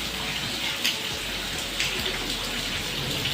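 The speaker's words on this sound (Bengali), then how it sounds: "বাইরে ভীষণ পরিমাণে বৃষ্টি হচ্ছে দেখো" Heavy rain pours down outdoors in a dense, steady hiss with a constant level and no voices.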